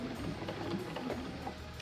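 Home sewing machine running a steady straight seam joining quilt blocks for a pumpkins and potions ladder quilt, a continuous close mechanical whir with faint rapid needle clatter, no voices.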